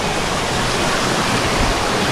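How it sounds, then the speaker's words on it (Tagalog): A waterfall with strong, rushing water produces a dense, loud, unbroken roar that fills the whole moment, close by and with no voices over it. "Nakita na namin yung falls at ayan, ang lakas ng agos."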